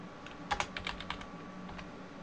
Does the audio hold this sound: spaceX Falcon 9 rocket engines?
no